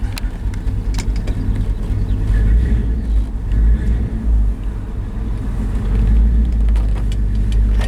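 A 1968 Ford F250 truck engine idles steadily after starting, a loud, close, continuous low rumble that holds level throughout.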